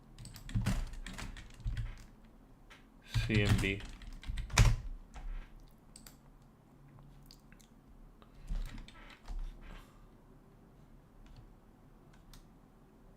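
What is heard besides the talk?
typing on a computer keyboard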